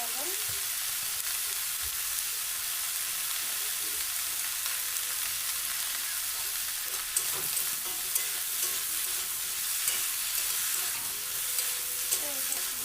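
Food frying and sizzling steadily in a pan on a home stove, a continuous hiss with occasional stirring clatter, close and fairly loud with no talk.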